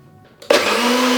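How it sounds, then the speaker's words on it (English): After a brief quiet moment, a blender switches on abruptly and whirs loudly and steadily, churning liquid ingredients for a plant-based sponge cake. "We're going to blend these together. You can use a blender or a NutriBullet."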